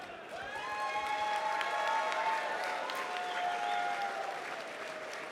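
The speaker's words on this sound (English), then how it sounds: "All right, let's give them a round of applause" At the QuakeCon 2014 finals party, the crowd applauds the finalists with sustained, moderately distant clapping and a little cheering, while a steady tonal hum runs underneath.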